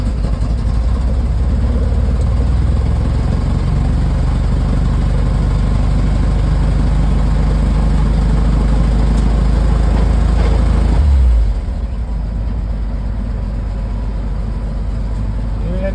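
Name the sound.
1953 Dodge M37 engine idling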